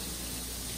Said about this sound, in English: These two need to be under running cold water